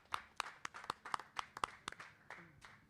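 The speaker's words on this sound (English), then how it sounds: "Give them a big round of applause." Sparse clapping from a small outdoor crowd at a Fremont Fourth of July porch parade, a handful of distinct claps in loose rhythm that taper off, fairly near and moderately loud.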